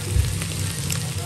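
Onions sizzling in a pot for sinigang, a steady close crackle and hiss with faint talk in the background.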